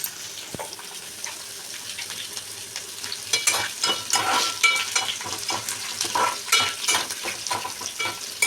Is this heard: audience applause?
no